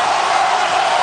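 A basketball arena crowd at a Washington–Stanford NCAA game roars after a score, a loud, unbroken wall of cheering with no pauses.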